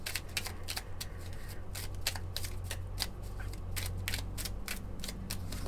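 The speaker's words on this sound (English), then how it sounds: "let's go ahead and shuffle them up just a little bit" Paper prop bills are shuffled by hand, giving a rapid series of soft crisp flicks and riffles close by over a low steady hum.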